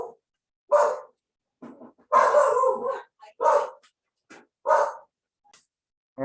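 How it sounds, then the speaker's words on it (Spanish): A small pet dog barks in a home during an online class, several separate loud yaps spread across the clip, close to the microphone with short silences between them. "Yo tengo mi perrito loco ahí que le agarra una gran bulla."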